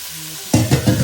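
Goat head pieces in a kadai, coated in garlic paste and turmeric, are stirred and sizzle loudly in bursts after a quiet moment, scraping and spattering close up.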